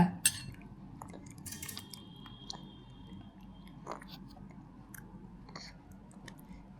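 A child chews and eats food close by, with soft, wet chewing and biting sounds and a few faint clinks of cutlery and dishes in a quiet room.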